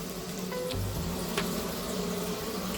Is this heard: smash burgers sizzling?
yes